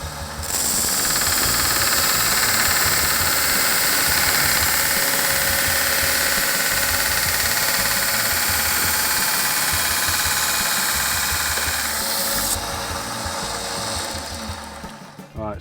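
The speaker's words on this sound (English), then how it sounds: "now we're going to go to the grinder and do the main bevel" A bench grinder grinds the main bevel on a steel knife blade, a loud continuous rasping whine with a steady motor hum that holds for most of the stretch before easing off at the end.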